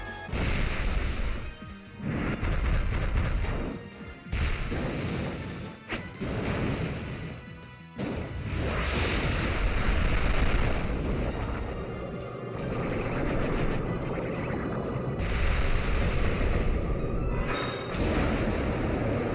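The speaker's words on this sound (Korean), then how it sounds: "하이퍼다크 크러셔는 이 폭발력이 너무 좋은 것같아" A Pokémon Z-move, Hyper Dark Crusher, detonates in a loud game sequence of repeated crashing impacts, booming bursts and rushing noise, dense and continuous with brief drops between hits.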